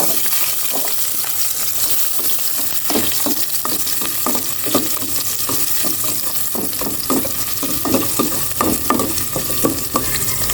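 Garlic sizzling in hot oil for mung bean stew, with repeated scraping and stirring strokes against the pan in an uneven rhythm.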